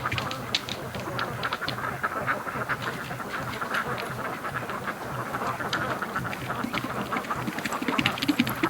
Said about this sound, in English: Man, the ducks that came out, I guess Doug spooked them out of the creek here.